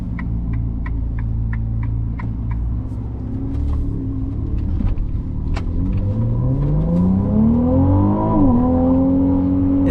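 2024 Ferrari 296 GTB engine accelerating while driving, a loud close-up drone from inside the cabin that rises steadily in pitch as the car gains speed, then briefly dips and holds, with a few light clicks early on.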